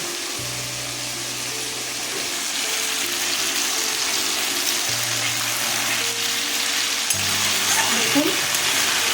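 Tomato with turmeric, chili, cumin and coriander powders sautéing in a pan for a Bengali pea dhoka curry, a steady close sizzle and frying hiss with occasional stirring scrapes, low tonal background hum, no talk.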